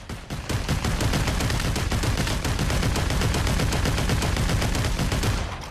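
An M60 machine gun in the Population: One game fires a long, unbroken automatic burst of rapid, loud, evenly spaced shots lasting several seconds.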